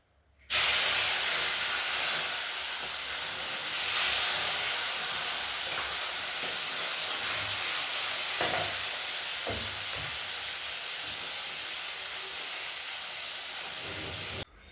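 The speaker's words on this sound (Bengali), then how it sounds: "প্রথমে মাছ ভাজা করে নিচ্ছি" Fish fries in hot oil, giving a steady, loud sizzle and hiss close up. It starts abruptly and continues unbroken with occasional faint pops and no talking.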